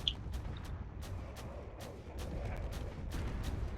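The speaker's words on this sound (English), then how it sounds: "there's a big explosion over there. It's that corvette just exploded." A corvette blowing up in a space drone combat video game: a quiet string of short, sharp blasts and thuds, several booms spaced across a low background rumble.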